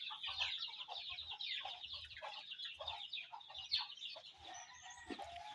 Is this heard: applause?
no